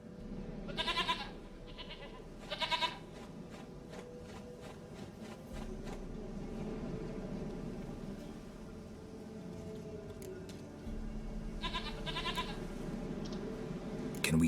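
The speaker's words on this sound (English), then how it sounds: "Goat of mine, dearest, sweetest goat." A goat bleats in two short, loud cries, then again near the end, over a low steady background hum in a video game scene, with no talking.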